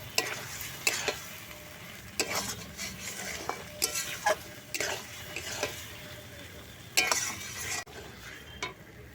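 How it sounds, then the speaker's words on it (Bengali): Boiled potatoes and shelled peas are stirred together in a pan, giving soft scraping and clinking of a spoon against metal in irregular bursts over a quiet background sizzle. "সেদ্ধ করে রাখা আলু এর সাথে দিয়ে দেবো ছাড়ানো মটরশুঁটি সব কিছু একসাথে খুব ভালো করে মিশিয়ে নেব"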